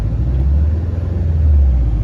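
A car engine with an overheating fault and head gasket sealer in it accelerates as a heavy, steady low rumble, loud and close, swelling slightly over about two seconds with no talking.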